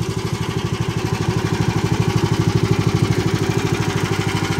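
A Borus 18.5 hp all-terrain vehicle's engine runs steadily through its break-in, a close, even, rapidly pulsing putter that holds a constant idle-like rhythm throughout with no voices.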